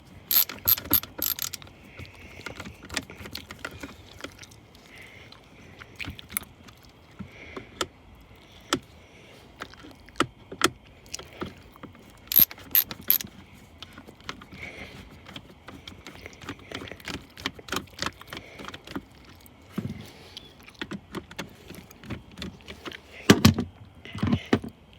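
Screws being undone to open a Mainstays NF15-18U fan heater: scattered close ratcheting clicks of a screwdriver, small metallic taps and rattles of the plastic housing, quiet between bursts.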